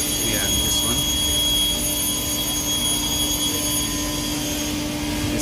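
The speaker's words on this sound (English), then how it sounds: "In this cooler, the air will get cooled through this fan. The fan which is attached to main motor." A cooling fan driven by the main motor of an Airpol 37 screw air compressor runs as a loud, steady whirring roar with a high tonal whine, unbroken throughout.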